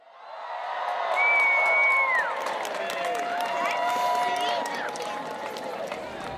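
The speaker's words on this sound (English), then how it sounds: "a roar of excitement came up from the crowd" A crowd outdoors at Valpo roars and cheers as a Christmas tree is lit, a sustained swell of voices and whoops with scattered clapping, loud and steady after a quick rise.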